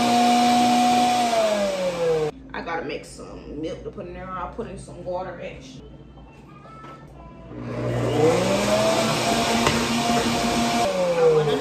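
A blender loudly whirs as it purees chopped skinned food, running steadily for a couple of seconds, stopping while a person talks, then starting up again with a rising whine.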